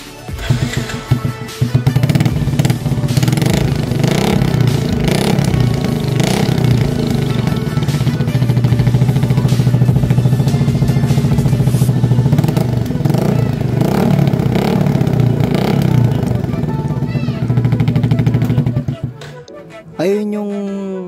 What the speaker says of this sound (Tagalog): Ayun yung tunog ng may silencer,